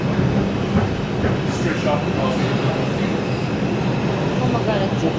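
A loud, constant rumble from inside a moving New York subway car, with rail noise steady throughout and people talking over it.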